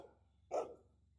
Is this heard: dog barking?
yes